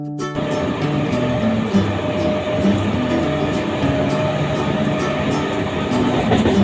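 A commuter train runs at speed, a loud steady rumble with a faint rhythmic clatter from the rails throughout.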